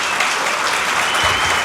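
A brief burst of dense audience applause at a talk, steady and fairly loud, clapping alone without speech.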